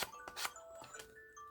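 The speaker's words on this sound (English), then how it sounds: "That's my alarm." A small alarm timer goes off in a workroom with a few quick electronic chimes and ringing tones, faint and brief.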